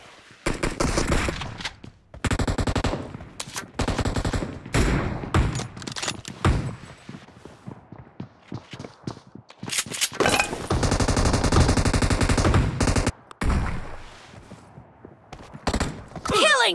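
Rapid automatic gunfire in the battle royale video game BGMI, bursts of loud shots and fusillades with brief pauses between volleys, dense and close throughout.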